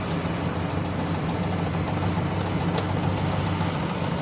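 A car engine hums steadily in fifth gear while climbing a long mountain road toward Mae Sot at night, a constant low drone with road noise and no voices.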